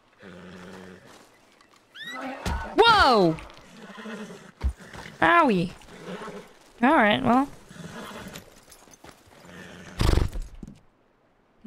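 A person imitates a horse whinny several times, high descending neighing sounds with breathy bursts, close and fairly loud, separated by short pauses.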